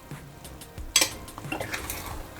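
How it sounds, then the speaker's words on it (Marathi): A spoon scrapes and clinks against a pan while vegetable upma with corn is stirred, a few short metallic knocks and soft scraping over a quiet sizzle. "एकदा आपण ढवळून घेऊया"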